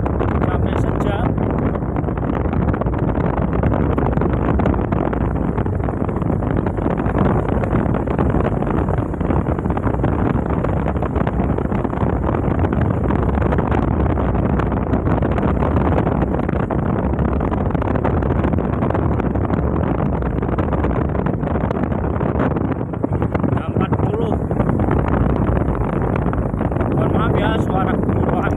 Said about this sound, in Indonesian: Suara gemuruh angin.